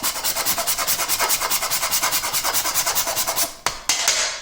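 Fast, rhythmic scraping strokes rasp an ingredient across a grater, roughly six strokes per second, close and crisp, then a couple of slower final scrapes and taps.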